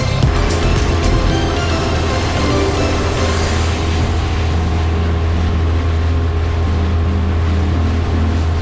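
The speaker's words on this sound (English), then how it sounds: "Morning dinghy ride, Carter?" A motor dinghy running on open water in the morning, its outboard engine droning steadily and loud throughout, with rushing water and wind noise over the hull.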